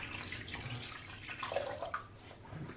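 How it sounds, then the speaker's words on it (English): Tap water runs into a sink while hands are washed, a soft steady splash and trickle heard close and faint, with no talking. "I'm just washing my hands."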